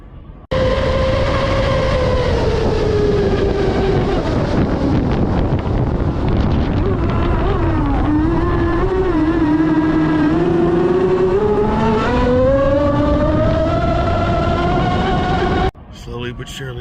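A 111 mph RC speedboat engine opened up to full throttle, heard from onboard: a loud, continuous motor whine that dips, then climbs steadily in pitch, with heavy wind rush over it, before cutting off abruptly near the end.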